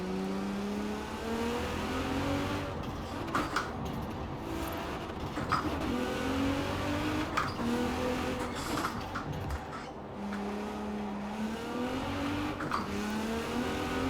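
A tuned car with an open exhaust and a bigger turbo roars through repeated gear pulls in Forza Horizon 4, its engine note sweeping upward again and again in a steady, loud drone with no talking.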